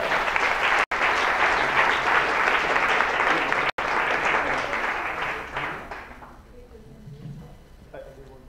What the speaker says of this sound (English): A big round of applause for Jennifer.